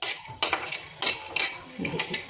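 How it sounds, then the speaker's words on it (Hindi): Peanuts roasting in a pan crackle and pop in short irregular bursts, with light scraping of a utensil against the metal between them. "अभी मूंगफली मेरी छिटक गई है"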